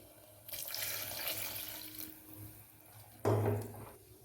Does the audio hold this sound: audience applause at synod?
no